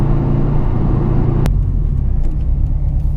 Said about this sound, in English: See, like that almost stalled, but no chatter at all.